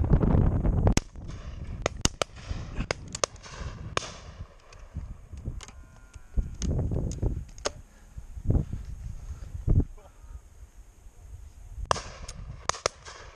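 Shotguns firing at a pheasant, partridge and duck shoot in Dorset: a string of sharp, loud cracks with irregular spacing, some close and some more distant, echoing across open country.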